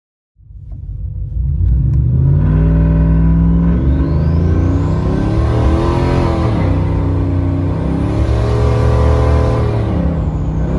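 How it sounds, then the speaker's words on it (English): A truck engine with a newly installed billet valve body fires up and idles with a deep, loud rumble, swelling through a couple of light throttle taps, close and steady throughout. "That's just a couple little light throttle tappies."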